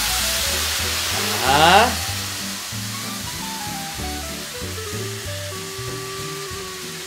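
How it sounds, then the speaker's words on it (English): Whiskey poured onto a burger in a hot pan, a brief louder hiss swelling around the second mark over steady frying sizzle, with background music throughout. "And then just add the whiskey right on top of the burger, just like that."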